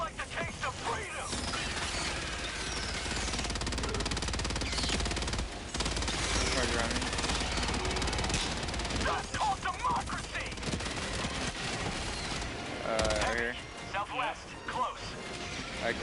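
Sustained automatic gunfire from a deployed sentry turret in a moon-set co-op shooter game, dense and loud for most of the stretch with brief dips, mixed with other battle noise and some voices.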